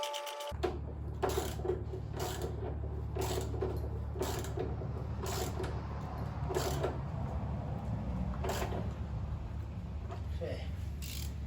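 Sub-frame bushing bolts being tightened on a Pontiac Firebird, a run of repeated ratcheting clicks in short bursts close up, over a steady low hum with some quiet talk.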